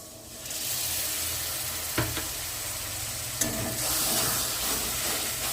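Spice paste cooking in a pan after whipped sour yogurt is added for a prawn malai curry, a loud continuous sizzle with a couple of sharp spoon knocks and stirring scrapes.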